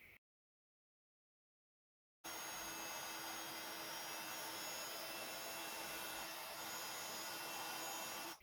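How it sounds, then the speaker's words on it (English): A heat tool blows a steady, loud whooshing hum while melting white embossing powder, starting abruptly after a moment of silence and holding constant to the end. "So then I'll heat emboss that with white embossing powder."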